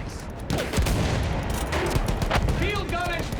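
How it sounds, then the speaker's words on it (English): Bursts of World War I rifle and machine-gun fire ring out in the video game Battlefield 1, dense and continuous with sharp cracks and ricochet whines, while voices shout over the fighting. "Continue suppressing fire."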